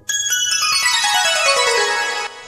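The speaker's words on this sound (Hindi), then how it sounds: "और इसके साथ में देखिएगा स्वर मंडल," A swarmandal patch on a Roland XPS-10 keyboard sweeps across bright plucked metal strings in a quick descending glissando, each note ringing and blending into a shimmering wash before cutting off, heard alone.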